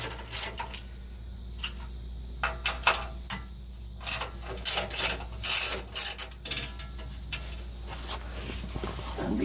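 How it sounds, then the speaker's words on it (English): Ratchet wrench loosening skid plate bolts underneath a 2007 Nissan Titan pickup, rapid clicking pawl bursts in short repeated runs, close and fairly quiet over a steady background hum. "Just gonna loosen the front two bolts a little bit."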